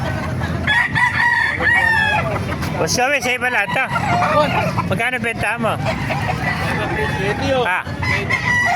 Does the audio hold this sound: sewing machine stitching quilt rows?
no